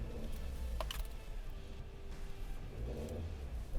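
A 2019 Suzuki Jimny SZ5 engine rumbles at low revs as the vehicle creeps over an off-road obstacle, a steady, fairly quiet drone with some clicks and knocks and a brief rise in loudness at the end.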